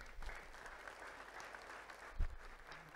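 Faint applause from a church congregation during a Friday service, soft scattered clapping spread through a large room, fairly distant and low in level, with a brief louder thump partway through.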